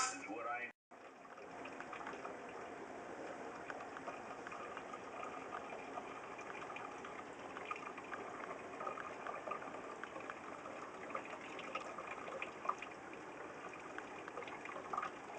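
Beer wort for an all-grain English pale ale is poured through a strainer, making a steady, continuous rushing gush of liquid that runs close and unbroken for the whole stretch after a brief pause at the start.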